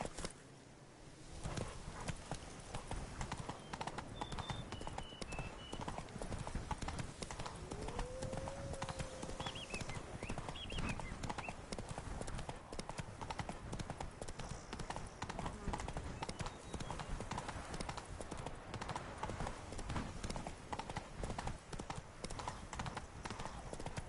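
Roach the horse clip-clops steadily through The Witcher 3, hoofbeats continuous and fairly close across the whole stretch, with a brief whinny-like call and some game ambience underneath.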